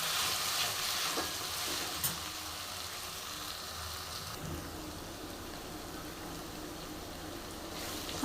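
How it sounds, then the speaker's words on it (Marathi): Onion and ginger-garlic paste frying in a pan for misal, a dense continuous sizzle close by with a few light stirring knocks and scrapes, no speech. "अर्धवट कांदा भाजल्यावरती अद्रक लसूणची पेस्ट टाकायची. यालाही छान अशी भाजून घ्यायची."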